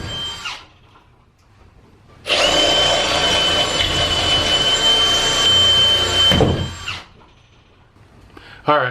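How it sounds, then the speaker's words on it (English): A power drill bores out rivets on a horse trailer under rehab, its steady high-pitched whine running loud and close for about four seconds, with quieter shop noise before and after. "So you can see all those rivets. They've got to get drilled out of there."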